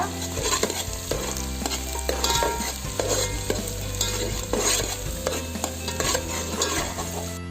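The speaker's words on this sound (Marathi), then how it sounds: "आता कांदा चांगला परतला" Onions stir-fry in a pan for a Malvani-style country chicken curry cooked on a wood-fired stove. A spoon scrapes and stirs rhythmically over a constant close sizzle, with repeated clinks against the pan and no voices.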